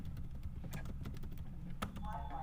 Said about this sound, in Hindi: आप कीबोर्ड से कंट्रोल D दबा सकते हैं